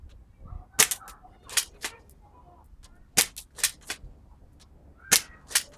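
A BB gun fires at water balloons, several sharp, close snapping shots spaced irregularly, some in quick pairs, with quiet gaps between.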